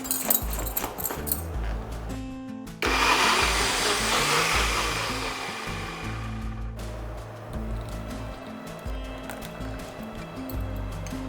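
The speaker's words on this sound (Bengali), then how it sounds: "দিয়ে দিচ্ছি টমেটো কুচি, বেসন, টক দই, কাঁচা লঙ্কা, সামান্য একটু জল দিয়ে এটাকে বেটে নেব।" A kitchen grinder whirs loud and close for several seconds, blending chopped tomato, gram flour, sour yogurt and green chili with a little water, with short bursts of motor noise before and after the main run.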